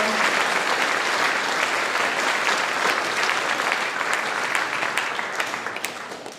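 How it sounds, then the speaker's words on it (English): Dense, steady applause from a school audience fills the space as middle school band students take their seats, holding loud and full before tapering off toward the end. "One more round of applause while they take their seats."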